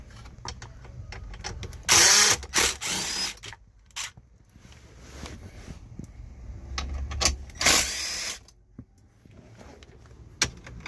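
Power tool zipping out 10 mm bolts under the dash of a Toyota Camry: two loud bursts of whirring, each a couple of seconds long, separated by quieter clicks and handling noise, with no talk.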